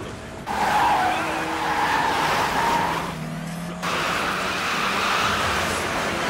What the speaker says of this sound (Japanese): スキール音をちょっと入れて緊迫感とか いう部分は増やしました